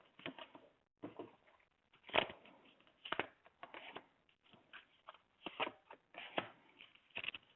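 Tarot cards shuffled by hand for a cross-spread reading, a run of soft papery riffles and slaps coming in uneven bursts with brief pauses, close and fairly quiet, with no talking.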